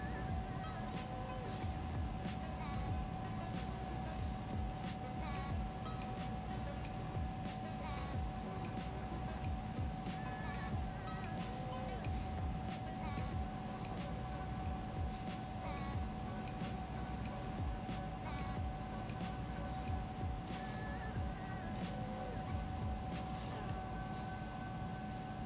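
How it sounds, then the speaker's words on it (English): Indoor air conditioning runs steadily throughout, a constant low hum with a faint tonal whine, joined by scattered small clicks and handling noises. "if y'all hear the air conditioning in the background"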